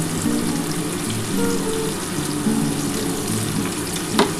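Chopped onion and whole garam masala spices frying in hot oil for a prawn malai curry, a steady close sizzle with broadband hiss and a brief sharper crackle near the end, no voices.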